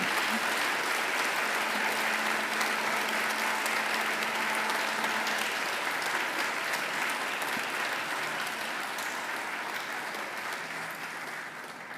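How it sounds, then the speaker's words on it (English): Graduates at a university graduation ceremony applaud their families and friends, a sustained, steady round of clapping from a large audience that fades slightly toward the end. "And now I invite you to give them a mighty round of applause."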